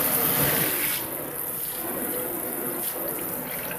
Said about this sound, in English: You got a nice shower.